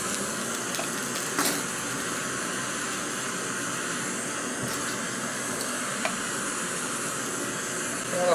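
Water heating to a boil in a cup set on a burner in a garage, a steady close hiss with faint bubbling and occasional small clicks underneath.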